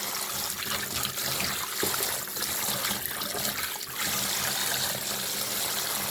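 Tap water runs steadily over pigtail being rinsed for a Jamaican brown stew, a continuous close splashing and trickling wash that lasts throughout with small surges and no talking.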